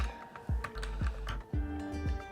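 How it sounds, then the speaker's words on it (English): Fingers tapping a mechanical keyboard up close: loud, crisp clacky keystrokes in an uneven rhythm of about eight presses, each with a sharp click and a hollow bottoming-out thud, with no talking. "I always wanted one of these. Not a keycappler, but a mechanical keyboard."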